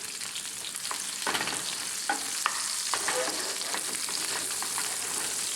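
Onions and garlic frying in a tarka for dal, a steady soft sizzle with occasional sharper crackles and stirring scrapes, fairly quiet and close.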